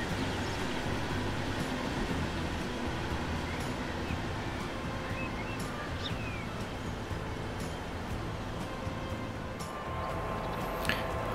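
V200 diesel locomotive pulling out of a station in Transport Fever 2, a steady low rumble and rolling rail noise that holds at a constant moderate level, with faint ambient chirps over it.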